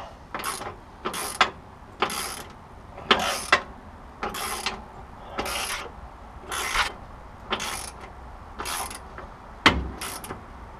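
Socket ratchet tightening a bolt on the front end of a 1972 Oldsmobile Cutlass, about ten short bursts of rapid metallic clicking separated by brief pauses, close up and fairly loud, no talking.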